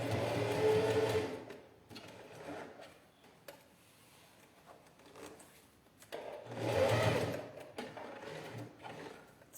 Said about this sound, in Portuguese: Vou costurar aqui por esse lado.